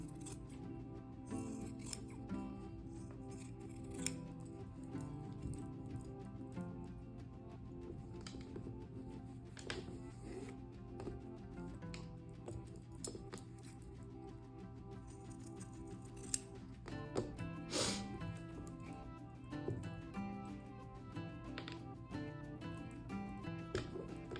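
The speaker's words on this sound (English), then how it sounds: "I am going to trim this because I'm a trimmer." Scissors trimming quilting fabric scraps for a scrappy needlebook, with soft, intermittent snips over a steady low hum and no talk.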